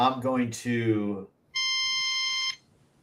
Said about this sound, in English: Somebody's got a phone call. Yeah, it's beeping.